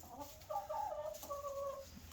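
Buff Orpington chickens clucking in a coop, soft, close, wavering clucks and murmurs from several birds over a low hum.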